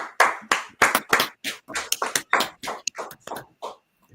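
A run of sharp, reverberant claps in an uneven rhythm, fairly loud, with no talking over them.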